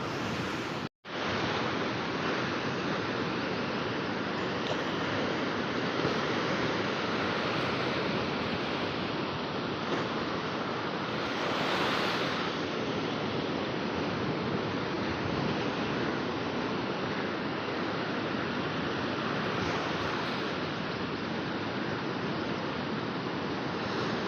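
Sea waves wash onto the beach at Pondicherry, a continuous, fairly loud roar of surf with no distinct breaks, heard alone without any talking.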